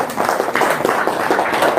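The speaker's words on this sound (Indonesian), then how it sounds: "Tepuk tangan" Applause from an audience at a seminar or talk, a dense steady patter of many hands clapping for the full short stretch, fairly close and without pauses.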